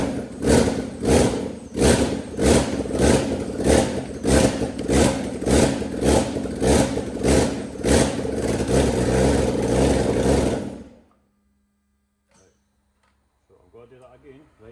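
A BMW M54 engine on standalone wiring, with the MAF sensor unplugged, turns over and runs in loud, regular rhythmic pulses for about ten seconds without climbing in revs, then stops, leaving near silence.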